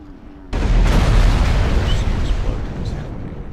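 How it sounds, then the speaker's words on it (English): Explosion sounds from composited effects footage: a sudden loud blast that bursts in and then rolls on as a dense, rumbling roar, gradually easing off, close and alone. "Explosions happening and stuff"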